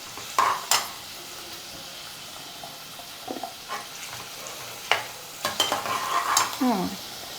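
Onions frying in a pan for Andhra-style Korameenu fish curry, a soft background sizzle with intermittent scraping and stirring strokes, a few sharper clinks, and no speech.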